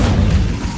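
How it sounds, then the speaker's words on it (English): Incendio fire spell from the Hogwarts Legacy video game, a short, heavy low whoosh-and-boom burst that fills the brief moment loudly and close. "Incendio!"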